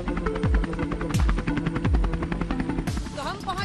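A news channel's helicopter flies overhead during election coverage near Tehri Lake. Its rotor chops steadily and loudly, with a dense mechanical roar and repeated descending whooshes. No talk is heard.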